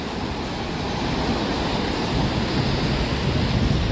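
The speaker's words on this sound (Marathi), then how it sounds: "ही बघा लाट. यो आहे देवबागचा समुद्र" Sea waves at Devbag beach in Konkan, where the Karli river meets the sea, roar as a steady, full surf wash with no break.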